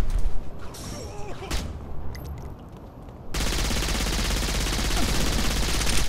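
Regular gunfire in the video game Saints Row IV: scattered shots and clattering at first, then a dense, loud burst of sustained rapid fire that runs to the end.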